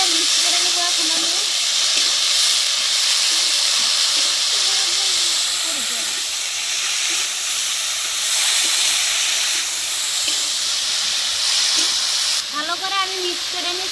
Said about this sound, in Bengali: সব কিছু এখন হালকা করে ভেজে নিচ্ছি।